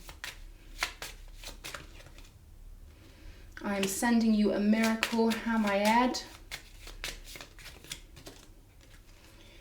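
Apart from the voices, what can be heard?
shuffling tarot cards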